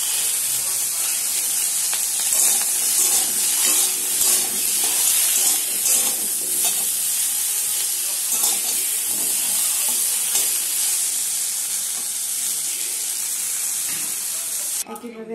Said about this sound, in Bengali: একইভাবে আমি চিচিঙ্গাগুলো ভেজে নেব।